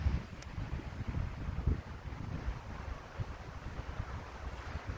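Steady wind gusts blow outdoors at a lakeside campsite in the Oregon Cascades in late September, a broad rumbling wash with low buffeting against the microphone and no talking.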